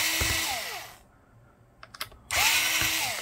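A power screwdriver briefly whirs loose the screws of a laptop CPU cooler, two short bursts separated by a quiet gap with a few small clicks and taps, close and fairly loud.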